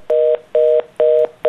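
Telephone tone after a call suddenly cuts off, a loud steady two-pitch beep repeating in even pulses about every half second, alone with no talk.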